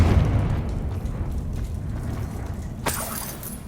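Confringo fire spell from Hogwarts Legacy bursts with a sharp blast near the end, following a low rumbling game ambience.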